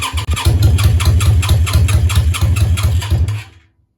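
A Yamaha Virago 535 motorcycle engine cranks and fires in a fast, even pulsing rhythm for about three seconds, loud and close, then cuts off abruptly into silence.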